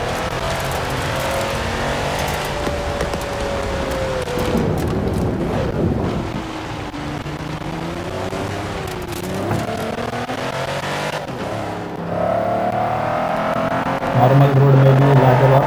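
A Mercedes G63 AMG G-Wagon driving off-road, its engine a steady loud rumble with rising revs and shifting pitch throughout, plus wind buffeting the microphone; a voice may be faint underneath.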